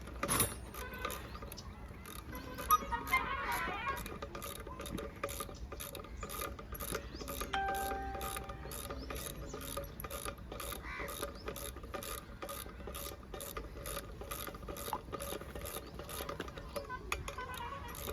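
A screw being tightened on a solar light cable gives off steady, rapid ratcheting clicks for the whole stretch, close and fairly quiet, with no talking.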